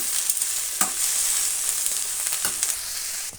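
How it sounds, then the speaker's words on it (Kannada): Cabbage palya with dal fries in a pan under a constant hissing sizzle, broken by a few quick spatula scrapes as it is stirred, close and without any talk. "ಪಲ್ಯ ಸೊಪ್ಪು ಎಲ್ಲ ಬೇಳೆ ಸೊಪ್ಪು ಎಲ್ಲ ಹಾಕೋಣ ನೀಟಾಗಿ ಮಿಕ್ಸ್ ಮಾಡ್ಕೊಳ್ಳೋಣ"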